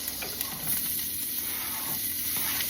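Onions and peppers sizzle in about two tablespoons of butter in a pan, a dense, even hiss throughout with small pops and no talking.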